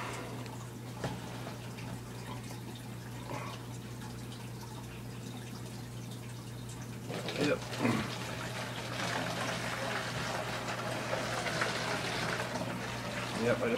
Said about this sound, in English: Yep, I just poured water all on my desk.